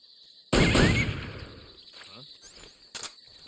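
Gunfire in the video game Metal Gear Solid 3: a loud burst of shots opens sharply and fades over about a second, followed by a few fainter pops and one more short crack later.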